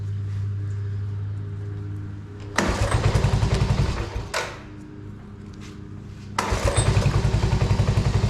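A 1984 Honda 125M three-wheeler that is hard to start idles roughly, then catches and revs in two loud bursts with a sputtering drop between them, running close and loud.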